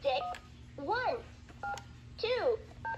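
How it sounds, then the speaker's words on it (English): Dialing tones from the toy phone of a VTech Magic Start learning toddler play table, a few short beeps alternating with a swooping electronic voice, fairly quiet and close. "It even has a portable phone that actually answers and talks when you go through."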